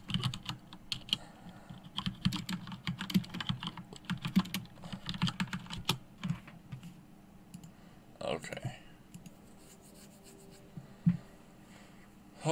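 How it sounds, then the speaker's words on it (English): Rapid clattering of a computer keyboard close to the microphone, bursts of keystrokes with short pauses, a person speaking briefly amid the typing. "Sorry if you can hear my keyboard."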